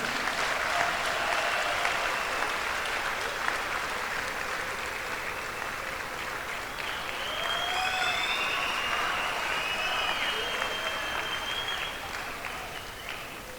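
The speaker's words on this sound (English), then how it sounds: "give a round of applause to President Zuma" Sustained applause from a large gala dinner audience honoring President Zuma, a dense steady wash of clapping lasting throughout with scattered cheers and voices in the crowd.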